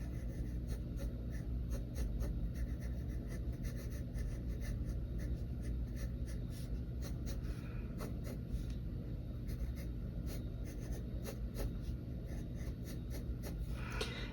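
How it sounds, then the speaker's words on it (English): A pencil sketches on paper in quick, close scratchy strokes, a rapid irregular rhythm of short marks that continues throughout without speech. "I'm going to use my darker pencil to define that."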